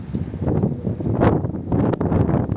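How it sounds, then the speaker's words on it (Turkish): Strong wind gusting outdoors, buffeting the microphone with a rough, fluctuating roar that swells and dips throughout the short stretch, close and loud with no voices. "bu aralar rüzgar gerçekten çok iyi bir rüzgar esiyor"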